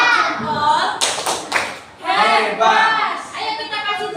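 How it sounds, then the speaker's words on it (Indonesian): Elementary school children clap a rhythmic cheer in a classroom, sharp hand claps in quick bursts mixed with lively chanting voices. "Ayo kita kasih tepuk hebat dulu"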